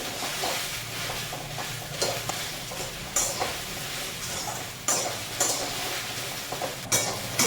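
Okra dry-roasting in a pan, heard as a steady crackling sizzle broken by sharp, repeated scrapes and knocks of stirring at irregular intervals.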